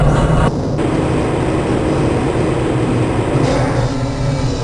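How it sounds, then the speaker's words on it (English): The Black Mesa transit train in the Half-Life: Blue Shift video game rides along with a loud, steady, droning rumble and a low mechanical hum, continuous throughout. "This train is inbound from the Area 8 topside dormitories to the Central Transit Hub in Area 9."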